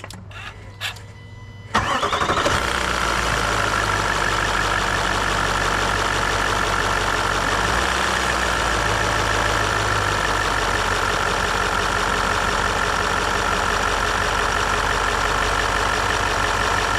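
A Range Rover L405 with new intake pipes cranks briefly after a few soft clicks, catches, and settles into a steady, loud, even idle that runs on unbroken, with no voices.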